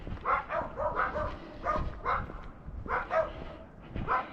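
Small poodles, one little and one bigger, bark repeatedly at a passer-by on a walk in Lewiston, Maine; sharp yappy barks come in a quick irregular series at moderate distance.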